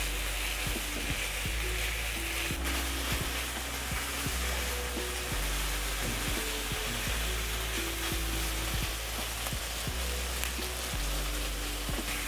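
Pork frying in a pot for a spicy stir fry, a steady close sizzle that runs unbroken with soft stirring scrapes and no talking.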